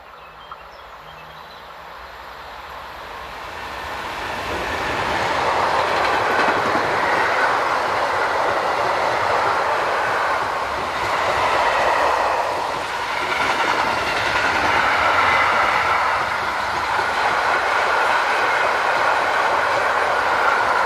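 A Class 185 locomotive hauling a freight train from Osnabrück to Hannover passes on a hot day, rumbling louder as it nears, then rolling on steadily with wagon clatter and a faint wheel squeal.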